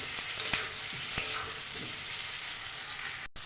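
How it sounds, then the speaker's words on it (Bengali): Boiled potatoes frying in a pan give a steady, close hiss of sizzling oil, with a couple of light clicks from stirring partway through. "একটু ভাজা ভাজা হয়ে আসবে সেদ্ধ আলু, বেশিক্ষণ আর ভাজতে হবে না।"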